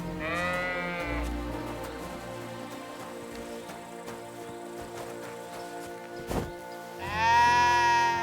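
Sheep in the video game Kingdom Come: Deliverance II bleat loudly and up close, one long wavering bleat at the start and another near the end, with quieter background sounds between.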